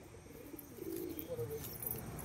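Green pigeons in a loft give soft, low cooing across the clip, under a steady background hum.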